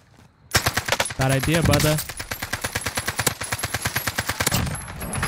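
Rapid AK rifle fire in Modern Warfare Warzone, a dense close burst followed by steady rhythmic automatic shots, with someone talking briefly over the opening bursts.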